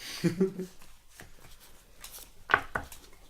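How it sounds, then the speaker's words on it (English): A deck of cards is shuffled for the Harry Potter Hogwarts Battle board game, giving a couple of quick, soft riffling bursts close by, followed by faint handling clicks. "everybody shuffle their deck and draw 5 cards"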